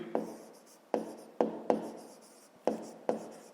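Pen writing by hand on paper during a fifth-grade math exercise, six short strokes with brief pauses between them, close and alone with no talk.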